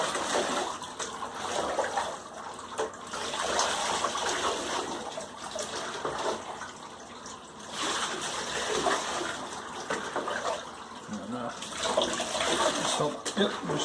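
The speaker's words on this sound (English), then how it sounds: "Cold water bucket." Cold water from a bucket splashes and gushes over a dog being washed, a steady wet wash of pouring and splattering that swells and eases across the clip, with voices talking faintly underneath.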